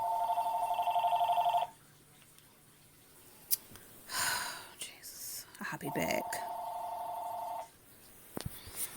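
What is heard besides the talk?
phone ringing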